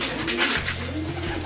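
A racing pigeon gives low, repeated cooing close by in a loft, with soft rolling calls and a steady hiss of background noise.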